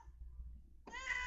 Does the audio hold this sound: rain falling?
no